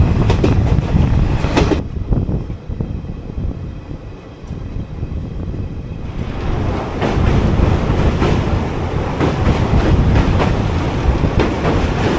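Siliguri–Bamanhat Intercity Express running on a single-track line, heard from on board with a loud, continuous rumble and wheel clatter that dips briefly mid-run before the rolling noise swells again.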